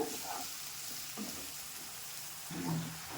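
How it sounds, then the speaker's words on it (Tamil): Chilies sautéing in a pan for a chicken gravy, a soft continuous sizzle with a few faint scrapes and stirring touches, quiet and close, no voices. "அதையும் போட்டு நல்லா வதக்கலாம். நல்லா பொன்னிறமாக நல்லா வதக்கிக்கோங்க"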